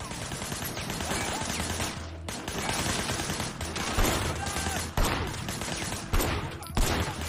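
Sustained blind-fire gunfire in a first-person video game, a dense continuous fusillade of rapid shots with brief pauses and bursts, loud and close with no talk over it.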